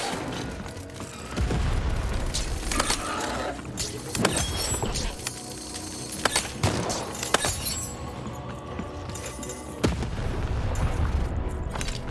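Three cannons fire in Lost in Random, loud repeated booms and cracking blasts spread across the stretch, layered over a busy, continuous battle din.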